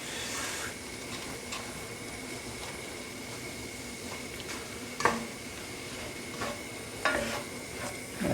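Browned meat with onions and chilli is stirred in a pan, a low steady sizzle under scraping spoon sounds and a few sharp knocks against the pan, no talking.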